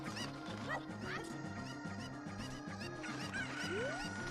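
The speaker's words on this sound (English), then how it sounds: "As Kirox hunts down some chickens." Game sound effects from a Zelda Ocarina of Time randomizer, with repeated bird-like honking and clucking squawks over a steady looping chiptune-style music bed, player commentary talking over it throughout.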